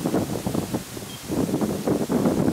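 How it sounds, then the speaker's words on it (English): Gusty wind buffets the microphone outdoors on a warm, humid day at a pottery workshop, rising and falling in loud, rushing waves without any talking. "So, well, the wind is getting up."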